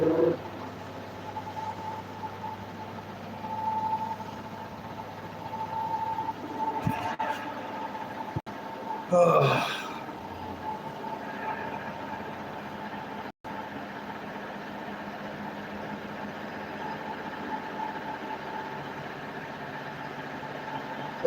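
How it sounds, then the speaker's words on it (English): A loud washing machine running its spin cycle, a steady droning whir with a persistent tonal hum, occasional thumps and rattles rising over it, continuous and close for about twenty seconds. "Those are good washers, but they're loud."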